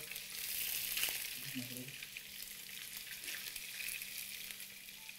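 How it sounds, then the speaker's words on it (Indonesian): Food grills on a Teflon double pan with a steady bright sizzle, close and continuous, while a brief stirring or scraping sound comes and goes beneath it. "ada bunyinya kalau kita memanggang sesuatu karena untuk mengurangi resiko nempel pada teflonnya"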